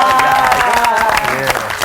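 Studio audience applause on a Korean television talk show, loud close clapping heard briefly, mixed with a voice and a musical tone.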